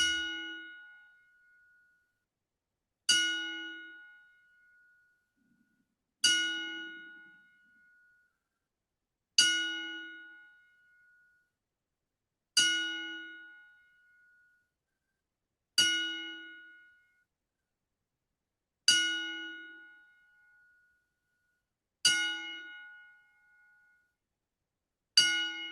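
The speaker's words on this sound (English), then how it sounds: "Your 10-bell salute for superstar Billy Graham." Ten bell strikes ring out at steady, slow intervals, each clear metallic clang decaying into silence before the next.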